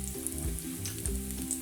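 Garlic sizzles and fries steadily in a hot pan as a potato masala dry curry is cooked, a soft continuous crackle alone, with faint clinks.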